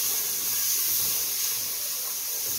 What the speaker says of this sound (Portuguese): Vou dar aqui uma refogadinha na cebola